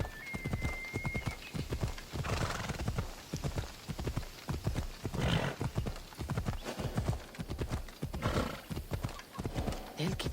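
Horse hooves clip-clop at a gallop through Assassin's Creed Odyssey, steady and continuous, with a whinny and voices talking over the ride.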